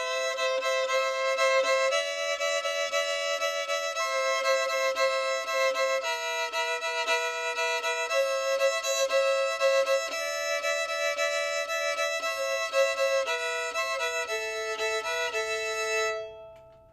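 A fiddle plays a melody while the bow also sounds an open string underneath as a drone harmony, sustained and clear, solo, without talk, for about sixteen seconds before it stops.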